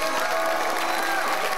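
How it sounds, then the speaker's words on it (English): An audience at a high school spring chorus concert breaks into steady, dense applause, close and sustained throughout. "Let's give them one more round of applause."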